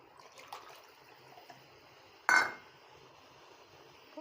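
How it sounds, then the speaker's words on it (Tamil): Water poured into a pot of chicken curry with coconut, heard as a single short splash midway through an otherwise quiet kitchen background. "உங்களுக்கு தேவையான அளவு தண்ணி ஊற்றிக்கோங்க."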